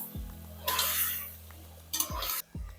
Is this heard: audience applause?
no